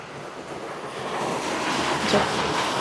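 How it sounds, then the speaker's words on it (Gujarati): Heavy rain pours down in a steady, dense roar that swells slightly as it goes on, with no voices over it. "ધોધમાર વરસાદ પડે છે અમારે."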